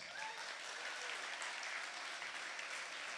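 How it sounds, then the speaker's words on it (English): Crowd applause at a chamber of commerce awards evening, a dense, even roar of many hands clapping, somewhat distant and steady for the whole stretch. "And a round of applause for my co-host,"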